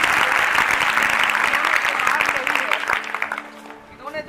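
An audience at a stress management session applauds a participant with loud, dense clapping that holds for a couple of seconds, then thins out into scattered claps and a voice starting to talk.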